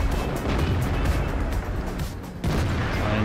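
An artillery shell strikes a tank in World of Tanks, a dense, loud rumbling burst of combat noise that dips briefly before swelling back, with no speech.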